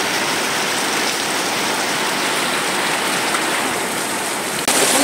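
Heavy rain falling in a steady, dense hiss, loud and unbroken, with a slight jump in level near the end.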